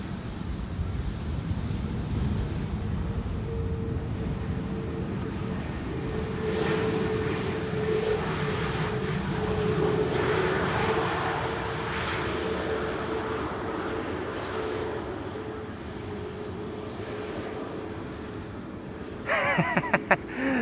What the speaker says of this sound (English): EasyJet A320neo. It's back to the narrow bodies for the time being.